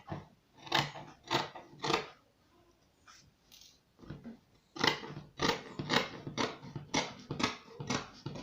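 Scissors cutting out fabric for a hair bonnet, a series of crisp close snips in quick rhythmic runs with a brief pause in between.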